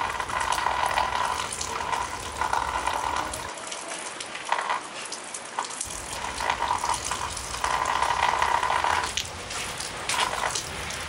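Water pours and splashes in a steady gush over a Tile Sport tracker, running continuously with a brief break and surging louder at moments, close and fairly quiet.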